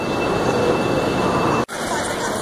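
A Chinese high-speed bullet train runs at around 300 km/h, heard as a steady loud rushing roar from inside with a thin high whine, broken by a sudden brief drop in sound before the roar resumes.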